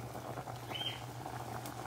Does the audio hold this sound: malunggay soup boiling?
yes